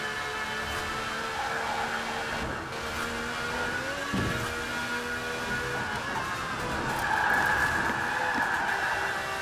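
V12-swapped Ford GT in the Forza Horizon racing game, a continuous high engine whine with sustained tonal roar and shifting pitch, fairly loud and steady over nine seconds with no talking.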